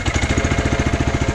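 A Turf Teq Power Rake's four-stroke engine runs close and loud with a fast, even thumping pulse and a steady mechanical rattle that holds level throughout, with no voices.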